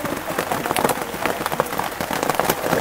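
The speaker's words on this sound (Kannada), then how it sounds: "ತುಂಬ ಮಳೆ, ಇಷ್ಟೊಂದು ಮಳೆಯಲ್ಲಿ ಗೊತ್ತಾ." Heavy rain falls steadily during an open jeep safari in Kaziranga National Park, a dense, close hiss with scattered droplet taps across the whole stretch.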